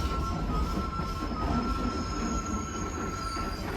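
A passenger train runs through the Andes from Puno to Cusco in Peru, a close, steady rumble of wheels on rails with faint squealing tones, continuous and fairly loud.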